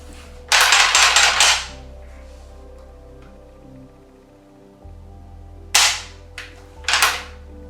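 An Italian M1 Garand rifle is dry fired, giving a few sharp metallic clacks of the action and trigger, one cluster early and two or three more later, close and crisp against a quiet low hum.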